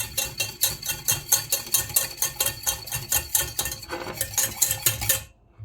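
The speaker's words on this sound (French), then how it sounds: "il faut que ce soit bien lisse, donc là on mélange bien" A whisk beats a smooth marinade for black cod in a bowl, quick rhythmic clinking and scraping strokes close up, steady and loud, then a sudden stop.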